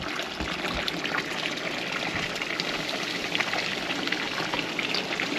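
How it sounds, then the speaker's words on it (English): Spring-fed water pours steadily into a storage tank at an off-grid home, a continuous broadband gushing and splashing that holds even throughout, close and moderately loud with no speech. "As you can see, there's water coming in here."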